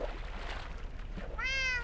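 A cat meows once in the video game Minecraft, a short, clear, rising-and-falling call near the end that stands out over a faint background rumble.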